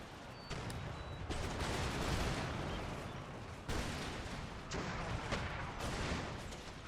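Massed musket volleys and artillery fire in Empire Total War battle gameplay, with rolling crackling volleys and heavy booms sustained throughout, some separate sharp reports standing out.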